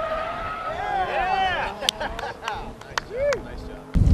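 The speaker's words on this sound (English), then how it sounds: "Totally lost traction right there coming around the first turn." A race car loses traction coming around the first turn of a track, its tires squealing in long wavering arcs over engine noise, with a few sharp knocks and a final loud burst.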